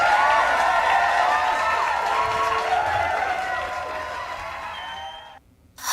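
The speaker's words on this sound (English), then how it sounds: "I'm going to start this with an applause." A sound effect of applause from a live-stream crowd plays as a dense wash of clapping and cheering. It is loud at first, fades gradually, then cuts out briefly near the end.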